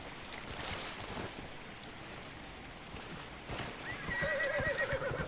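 Hooves clip-clop steadily along, then a horse lets out a clear whinny near the end, with no one speaking, in the video game Dragon Age: Inquisition.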